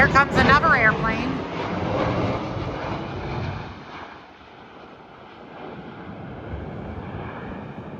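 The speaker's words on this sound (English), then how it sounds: "Here comes another airplane." A large airliner descends toward the airport beside Fort Mifflin. Its broad, steady engine roar is heavily mixed with gusty wind buffeting the microphone, loudest at first and then easing into a softer rumble, with talk at the start.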